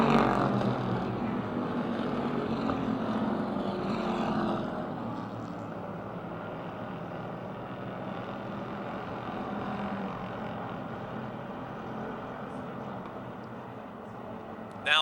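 Race cars lapping at Motordrome Speedway, a steady mass of engine roar that carries on for the whole stretch with only gentle swells as the field runs past.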